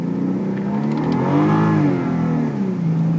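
A 1992 Toyota Soarer with a swapped 2JZ engine revs up hard under acceleration, its loud, continuous engine note sweeping up and then easing back, close and steady with no talking.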